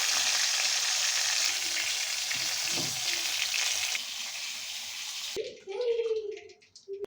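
Chicken meat frying in a pan for a spicy Bengali chicken curry, a steady broadband sizzle for about five seconds before it cuts off, followed by brief clattering and a short voice.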